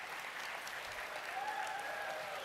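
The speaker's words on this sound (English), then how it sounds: "give them a rousing round of applause to express your gratitude" Graduating class at an opening ceremony applauding their loved ones, steady crowd clapping from a large audience, moderately distant and continuous throughout.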